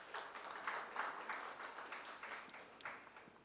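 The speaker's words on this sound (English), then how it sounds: "A big round of applause for our chairpersons." Quiet, distant applause for the chairpersons at a medical conference session in a hall, scattered claps with an uneven rhythm, faint throughout.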